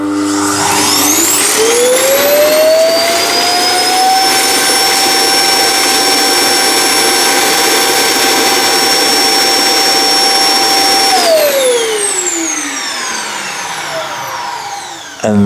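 A self-emptying robot vacuum dock spins up with a rising whine into a loud, steady roar as it sucks dust out of the robot, holding for several seconds before winding down.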